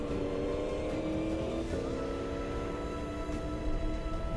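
A Volkswagen Amarok rally truck on a desert stage of the Morocco Desert Challenge drives with a steady engine drone and shifting tonal whine. The noise is moderately loud and sustained over loose ground, with no voices.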